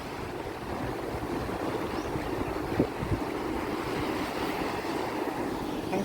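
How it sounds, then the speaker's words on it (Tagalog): Strong sea waves wash onto a seaweed-strewn island beach in a constant broad roar, with wind buffeting the microphone and a couple of brief louder surges. "In fairness, medyo malakas yung alon."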